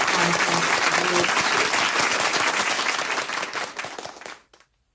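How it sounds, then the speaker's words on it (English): Applause for the winners of a chess contest at a cultural celebration finale, a dense wall of clapping from a large audience that stays steady before tapering off and stopping near the end, with faint voices underneath. "Please join me in giving a big round of applause to all winners in the chess contest"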